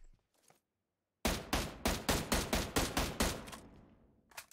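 A rapid volley of about a dozen sharp gunshots in PUBG Mobile, loud and evenly spaced at close range, then trailing off into echo, with a quiet stretch before the firing begins.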